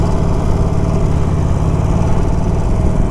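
A 2021 Harley-Davidson 48 or 2021 Triumph Bobber Black motorcycle engine idles steadily up close, a continuous mechanical rumble and clatter with no pauses or voices.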